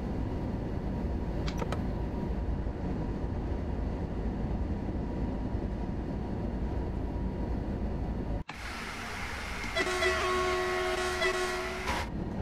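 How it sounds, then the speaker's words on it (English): A freight train rumbles past Dresden Neustadt in the Train Sim World 4 simulator, a steady low roar that cuts off abruptly and gives way to a sustained horn or whistle tone. "the freight train's just about to go through Dresden Neustadt"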